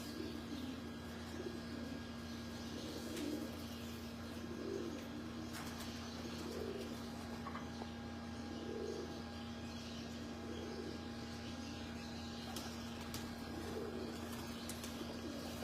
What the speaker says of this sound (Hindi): ये कबूतर का बच्चा है, कम मिलते हैं कबूतर के बच्चे, कबूतर तो मिल जाते हैं।